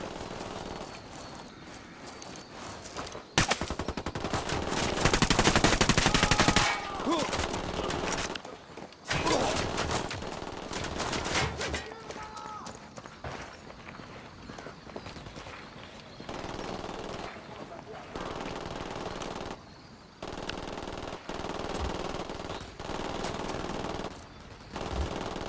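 Machine gun fire in Ghost Recon Wildlands comes in loud, rapid automatic bursts, the longest near the start, then shorter bursts and single shots, with brief quieter gaps between.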